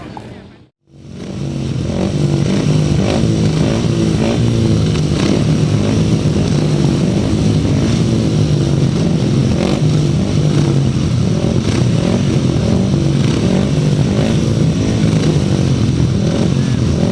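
Grasstrack racing motorcycles roaring through a race at Collier Street, a loud sustained engine drone with revving that starts after a brief gap and holds steady throughout.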